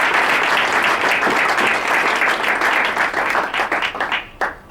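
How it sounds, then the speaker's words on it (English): Ladies and gentlemen at a university event applaud a professor, loud close clapping from a full audience sustained for several seconds before breaking into a few scattered final claps. "Can we give the Prof one more time a lively round of applause?"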